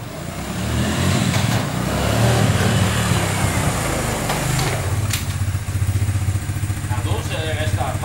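A Suzuki LTZ250 quad idles up close with a steady low engine rumble that holds for the whole stretch, loud and continuous, with a slight change in tone about halfway through and a voice speaking underneath.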